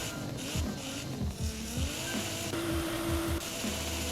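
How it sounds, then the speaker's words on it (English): A Nissan GT-R R35 sports car engine in Forza Horizon 5 revs and drones with rising and falling pitch, fairly loud and steady, with no one speaking. "let's go ahead and have a listen to the engine real quick"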